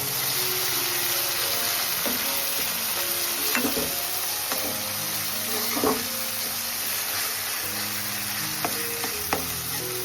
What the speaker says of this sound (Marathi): आपला वाटण मस्त तेला फ्राय झालेलं आहे